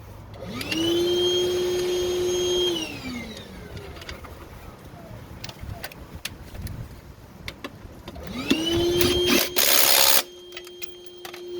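A vacuum cleaner runs in a garage during Jeep WJ lift-kit work, switching on with a steady loud whine that winds down after a few seconds, then starting again near and loud, with clattering in between.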